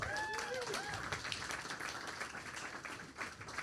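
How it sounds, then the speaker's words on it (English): A community forum audience on mental health and resilience claps together, a steady patter of applause a short distance away, faint overall, with a few whistle-like tones at the start. "Another round of applause for Lili."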